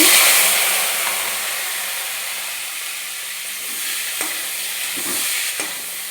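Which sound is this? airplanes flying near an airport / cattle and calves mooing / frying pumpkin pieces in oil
frying pumpkin pieces in oil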